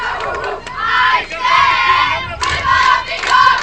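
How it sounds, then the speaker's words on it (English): A softball team yells and cheers from the third base dugout during a high school district tournament game, loud sustained group shouting in several bursts. "You might be able to hear them out of their third base dugout, cheering on Riley as she stands at home plate."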